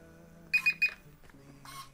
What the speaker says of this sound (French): On va donc le pousser vers le haut jusqu'à entendre le petit bip.